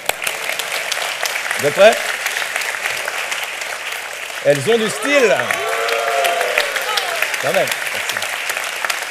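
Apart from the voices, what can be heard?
studio audience applause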